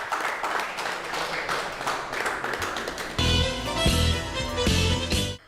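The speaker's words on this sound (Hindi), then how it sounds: "तालियां रुकनी नहीं चाहिए।" A village crowd at a farmers' award ceremony claps in a steady, moderately loud patter for about three seconds before music cuts in and takes over.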